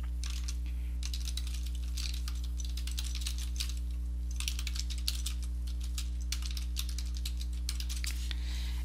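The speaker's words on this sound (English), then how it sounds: "maybe I'm going to type in a quote here." Typing on a computer keyboard while writing a psychotherapy note in therapist software, with close, quick clusters of key clicks in bursts and short pauses, over a steady low electrical hum and no talking.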